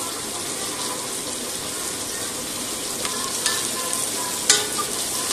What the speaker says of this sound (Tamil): நல்லா ஒரு தரட்டு தரட்டி விட்டு இஞ்சி பூண்டு பேஸ்ட் போட்டுடலாம்.